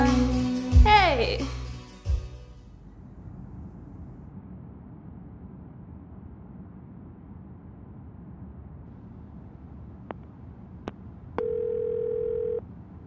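Phone ringing tone on an unanswered call in a drama series: music fades out at the start, then quiet room tone follows, and near the end a few brief tones lead into a steady held tone.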